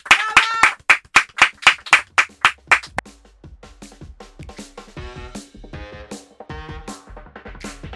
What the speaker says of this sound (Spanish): Lo aplaudimos fuerte a Coco